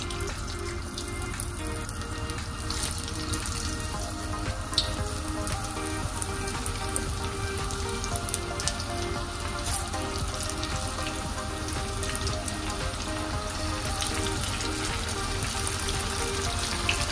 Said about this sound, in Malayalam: എണ്ണ ചൂടായിട്ടുണ്ട്, എണ്ണയിലേക്ക് ഇട്ടിട്ട് ഡീപ് ഫ്രൈ ആയിട്ട് എടുക്കാം